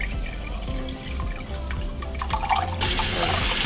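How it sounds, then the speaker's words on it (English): Chicken broth pours from a carton into a pot in a soft, steady liquid trickle that grows into a louder, brighter splashing stream near the end. "Then I'm gonna add in chicken broth."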